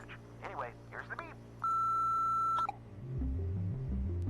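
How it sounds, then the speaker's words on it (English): A voicemail beep in a Jackbox party video game sounds as one loud, steady electronic tone lasting about a second, preceded by brief talk and followed by low synth music. "Anyway, here's the beep."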